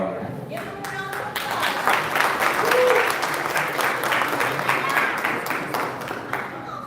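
An audience gives a round of applause at a live launch event, steady dense clapping that swells in the middle and continues throughout.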